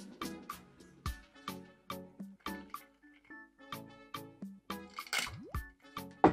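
Rum cocktail poured into a glass, a rapid series of close, quiet dripping and splashing pulses with clinking at the end.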